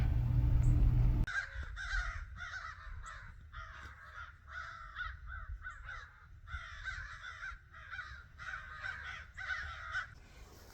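Crows cawing repeatedly in a steady run of harsh calls, moderately near and loud, after a brief low rumble at the start.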